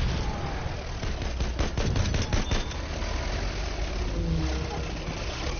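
Gunfire in the Battlefield 1 video game, a quick cluster of rapid shots in the middle, set against a constant rumbling battlefield din with engine-like noise, loud and close.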